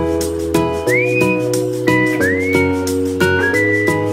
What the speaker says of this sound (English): Here comes the whistle. I love the whistle.